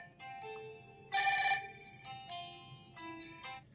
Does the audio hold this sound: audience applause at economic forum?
no